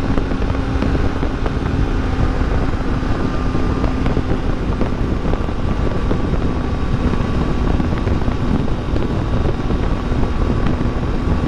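Wind roars constantly past a rider on a Triumph Tiger 800 XCA motorcycle, a loud, broad buffeting rush that stays unbroken throughout, with the engine buried beneath it and no talk.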